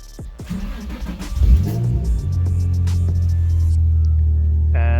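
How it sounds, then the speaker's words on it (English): A Nissan 350Z with a VQ35 engine, just fitted with a new oil pan and pickup, cranks briefly and catches. It settles into a steady, close idle hum that continues alone to the end. "you can just let off the gas pedal and then just start it normally"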